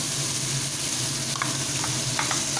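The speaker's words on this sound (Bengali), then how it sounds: "তেলটা গরম হয়ে গেছে, এখানে আমি আদা বাটা এবং 2-3টে চিড়ে রাখা কাঁচা লঙ্কা" Ginger paste and slit green chillies go into hot oil in a pan, giving a loud, steady sizzling hiss close by, with faint stirring clicks on top and no talk.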